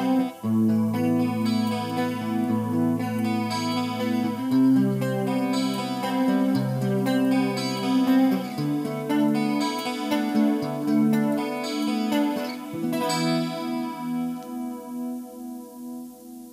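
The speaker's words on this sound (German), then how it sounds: "ich werde jetzt gleich mal den Clean-Kanal aktivieren mit einem leichten Chorus" An electric guitar plays through a Hughes & Kettner Matrix 100 transistor amp head on its clean channel with light chorus and reverb, ringing clearly sustained chords and arpeggios that shimmer for about sixteen seconds alone.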